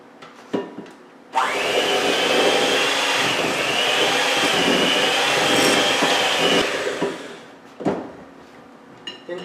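A stand mixer runs on low for about five seconds, creaming butter with packed brown sugar for low-sodium pecan bars, a steady whirring hum with scraping texture that starts and stops abruptly, with a few clunks before and after.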